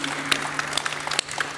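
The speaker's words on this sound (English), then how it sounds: "How about a round of applause for that video?" A small audience at a round-table discussion show claps in a quiet, thin patter of scattered hands, fairly faint and short, with a low hum underneath.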